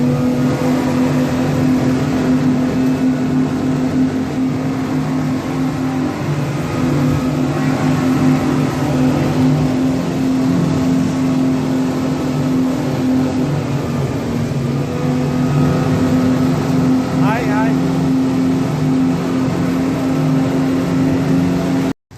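A speedboat runs from Male to Maafushi Island in the Maldives, its engine droning steadily and loudly with constant hull and water rush, unbroken for the whole stretch and no talk.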